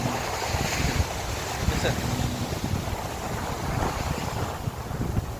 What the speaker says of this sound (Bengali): অনেক বাতাস সাগর পরে